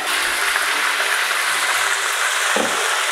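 Chicken pieces sizzle in a pan on a stovetop as they fry, giving a loud, steady hiss that runs without a break, with a faint low knock near the end and no voices.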